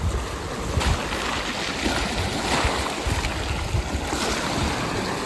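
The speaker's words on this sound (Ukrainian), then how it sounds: "Подивіться, просто які волни йдуть великі." Large sea waves roar continuously in a Croatian bay with broad rushing noise and wind buffeting, occasional swells breaking a bit louder; no voices.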